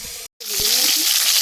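Pumpkin pieces frying in oil in a pan in a home kitchen, a steady close sizzle with a brief silent gap near the start and faint clinks of stirring.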